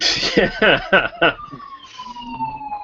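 An emergency-vehicle siren wails under a few short spoken words, its rising and falling tone continuing steadily and fairly loud after the voices stop.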